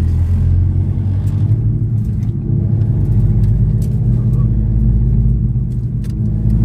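A car driven around a roundabout to make a U-turn, a loud, steady low engine rumble with road noise close inside the cabin, holding even throughout with faint ticks above.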